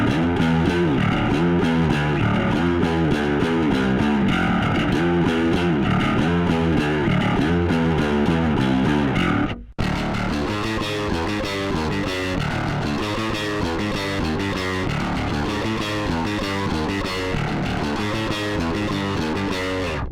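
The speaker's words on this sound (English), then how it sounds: "this nice blend of a big fat clean low end and then this sort of layer of distortion on top" Electro-Harmonix Battalion bass preamp driving a bass guitar, blending a big, fat clean low end with a layer of distortion on top, played as a loud, continuous metal riff that cuts off briefly midway before resuming.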